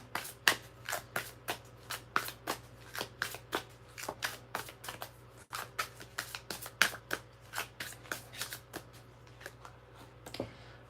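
A tarot deck is shuffled by hand in a quiet room, giving a long run of soft, quick card flicks and slaps in an uneven rhythm, close and faint, without talking.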